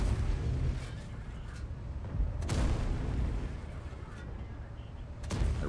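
A T57 heavy tank's gun fires in World of Tanks, with sharp heavy cannon blasts rising out of a low rumbling battle bed, a few distinct booms spaced over several seconds at moderate loudness.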